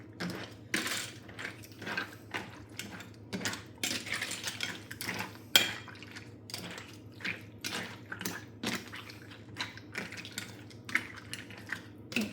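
Pasta and liquid are stirred in a baking dish, with close, irregular clinks and scrapes of a utensil against the dish and quiet pauses between strokes.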